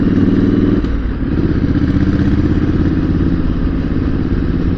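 A Triumph Bonneville or Street Twin motorcycle with a high exhaust thrums loudly and steadily up close while riding, a low pulsing rumble with a brief rise in revs near the start.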